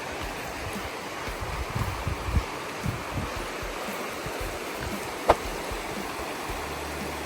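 A mountain river flowing in the Carpathians near Myslivka, a steady broadband rush of water with low rumbling, one brief sharp click partway through, no voices.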